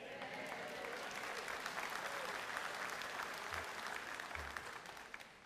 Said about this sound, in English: Now, that applause is for her.